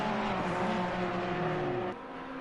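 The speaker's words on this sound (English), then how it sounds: "That is a car that's gone off." A race car in the Assetto Corsa Competizione racing game runs off the track, its engine a steady loud drone with tonal whine and broadband roar that drops off abruptly near the end.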